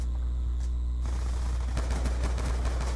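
Gunfire in Call of Duty Black Ops II, a rapid burst of automatic shots rattling over a steady low game rumble, dense and continuous through the second half.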